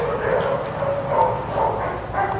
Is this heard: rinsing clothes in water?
no